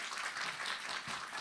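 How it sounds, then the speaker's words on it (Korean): Faint, steady applause from a conference audience welcoming the Brain Trainer Association president onto the stage, distant and brief. "큰 박수로 환영해 주시기 바랍니다."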